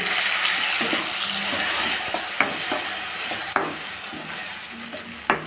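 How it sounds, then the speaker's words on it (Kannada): Ground tomato chutney hits a hot pan with curry leaves, a loud continuous sizzle with scraping spoon strokes and occasional clicks as it is stirred. "ರುಬ್ಬಿರುವಂಥ ಚಟ್ನಿ ಹಾಕ್ತಾಯಿದ್ದೀನಿ"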